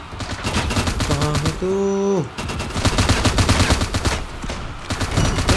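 Rapid bursts of gunfire from the video game Frag, dense repeated shots running through most of the clip with a brief synthetic tonal effect in the middle, and someone speaking briefly over the action.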